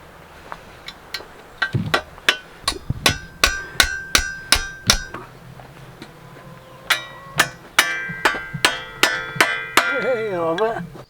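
Steady hammer strikes ring out as a scythe blade is set up for cutting hay in a Chechen mountain gorge. Two long runs of sharp metallic blows come in an even rhythm, loud and close, with a short pause between the runs.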